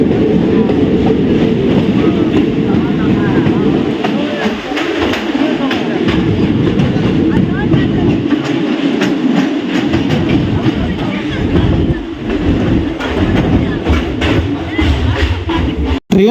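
A train on the Sakleshpur railway route runs with a loud, continuous rumble and rattle, some wheel clatter and faint bird calls, and voices come through now and then.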